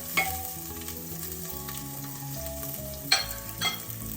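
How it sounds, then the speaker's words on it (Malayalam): Dried coconut pieces and chopped onion sautéing in coconut oil, a steady close sizzle with scraping stir strokes and a few sharp clinks of a spatula against the pan, no voices. "ഇതും ഉള്ളിയും കൂടി ഒന്ന് നമുക്ക് വഴറ്റിയെടുക്കാം."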